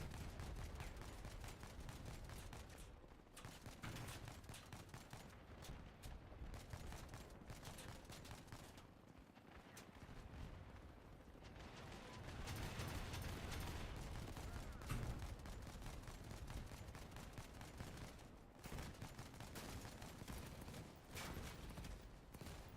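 Video game gunfire: dense, rapid bursts of shots packed together in sustained volleys with brief lulls, loud throughout, with no talking.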